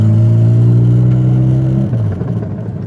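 A street-ported Mazda RX7 FC rotary engine droning loud and close at steady revs, then easing off into a lower rumble near the end.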